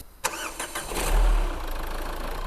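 A Renault 1.5 dCi diesel engine in a 2022 Kadjar or Grand Scenic 4 cranks briefly, catches with a sharp burst and then settles into a steady, even idle close by.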